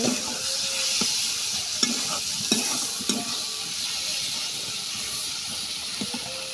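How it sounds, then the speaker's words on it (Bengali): Flat beans sizzle steadily in a hot pan with a constant hiss, broken by a few distinct stirring taps and scrapes. "সিম ভাজা হয়ে গেছে, এই যে আমার সিমটা ভাজা হয়ে গেছে।"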